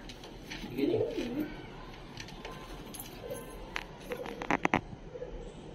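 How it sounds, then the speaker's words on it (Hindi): A pigeon coos softly early on, followed by faint rustling and a few sharp crackling clicks nearby. "बहुत सुंदर कबूतर है"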